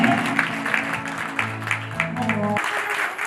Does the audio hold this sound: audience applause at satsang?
yes